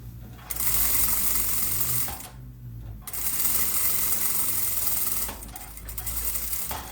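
A sewing machine stitches the fabric lining into the bottom of a bag, running in long buzzing bursts with a short pause near the start and another brief break later, close and steady.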